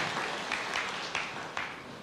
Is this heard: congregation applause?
yes